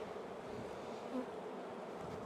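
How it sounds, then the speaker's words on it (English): Honey bees crowd around an open hive during a beekeeping inspection of a colony being split into nucs, a dense, continuous buzzing hum, close and steady throughout. "what I mean about the bees, they're just everywhere"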